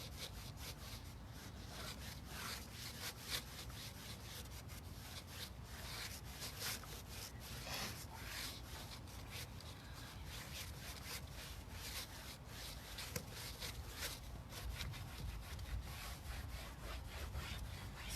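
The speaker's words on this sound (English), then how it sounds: "I'm taking off all the wax first before I get in here and try and sand this smooth" Waxed wooden furniture is sanded by hand in steady, rapid abrasive strokes. The scratchy rubbing keeps an even, continuous rhythm for the whole stretch, close by and moderately quiet, with no voices.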